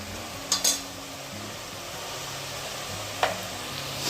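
Onions frying in oil in a pan for Hyderabadi chicken marag, a steady close sizzle and crackle that runs throughout, with a couple of brief stirring scrapes, and no talking.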